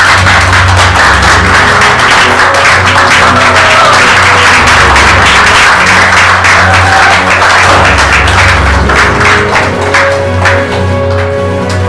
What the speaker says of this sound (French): Veuillez applaudir Madame Nathalie Fania.